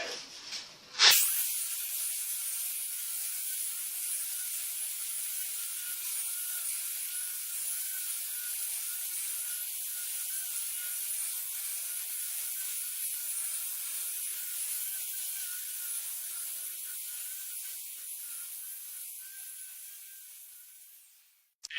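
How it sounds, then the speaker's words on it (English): A 6-inch Rotex sander in Rotex mode doing heavy stock removal with 40-grit sandpaper gives a steady, loud, hissing grind that runs unbroken for about twenty seconds before cutting off, with no talking. "So the first tool, Rotex sander, it's a 6-inch sander."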